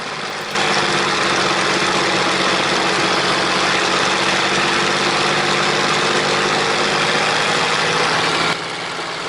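A P-40N Kittyhawk's V-12 engine idles during a run-up, a loud, steady, even drone that cuts in abruptly and holds at the same level before dropping away near the end.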